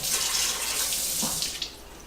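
Garlic rinsed under a running kitchen tap, a steady hiss of water splashing for about two seconds with a brief louder surge near the end; no talking.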